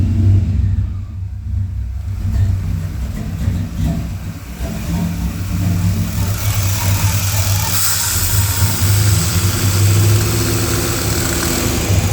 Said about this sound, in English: That's an idle right there.